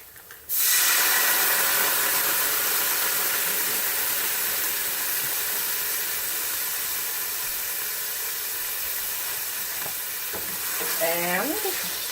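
Wine poured into a hot pan with thyme for French onion chicken erupts into a loud, sudden sizzle and steamy hiss that holds steady for several seconds, with brief stirring scrapes near the end.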